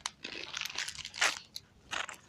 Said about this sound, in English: What are you eating, Papa? Corn nuts.